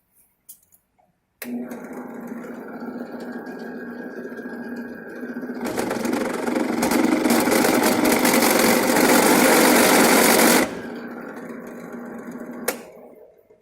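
Small rotary drill bevelling a drilled hole in a metal medallion: a steady high motor whine that grows into a louder, rougher grinding for several seconds, then drops back to idle and stops with a click.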